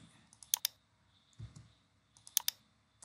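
Someone typing a search on a computer keyboard: a few faint, quick key clicks in two short bursts with a soft thump between them, in a quiet room.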